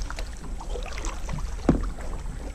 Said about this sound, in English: You still be paddling.